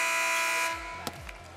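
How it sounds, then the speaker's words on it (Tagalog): A loud basketball arena buzzer at a PBA Governors' Cup game blares steadily, then cuts off, leaving crowd noise with a couple of brief knocks. "That came after the buzzer."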